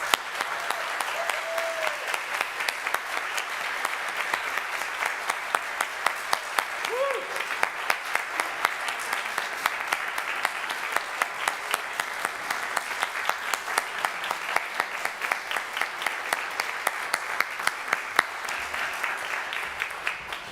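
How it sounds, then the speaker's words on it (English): At a Sunday morning church service, a congregation claps warmly for its religious-education volunteers, a long, steady round of applause lasting about twenty seconds with individual claps audible throughout. "Let's give all of our RE volunteers a big round of applause"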